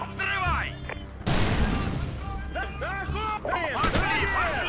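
An explosion blasts in Call of Duty 4: Modern Warfare, a sudden loud boom that rolls on as a long roar, with gunfire and other game sounds and people talking before and after it.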